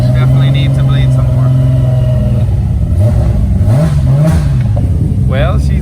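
A car with a broken transmission revs loudly and close, its engine rising and falling in pitch as the wheels spin, and someone talks over it.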